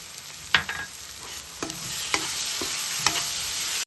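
A spoon stirs yogurt into egg masala curry in a pan, giving a soft steady sizzle with several distinct scraping clinks against the pan. No one speaks.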